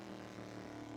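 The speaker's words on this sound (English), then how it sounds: "For this sound, I'm not a fan of this car's outside sound." Steady, moderately faint droning exterior engine note of a GTE race car in the racing game rFactor 2, a constant buzzy hum with no talk over it.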